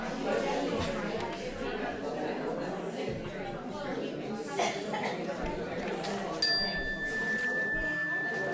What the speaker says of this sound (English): It's a yoga chime.